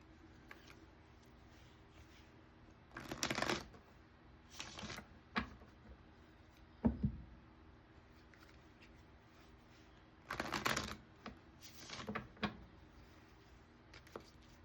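Tarot cards shuffled and drawn by hand, heard as a few short bursts of riffling and flicking with quiet pauses between, close and moderately soft, with no talking.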